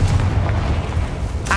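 A Confringo explosive spell cast in the Hogwarts Legacy video game, a loud deep blast with rumbling low boom that fills the short moment and fades into a faint burst at the end.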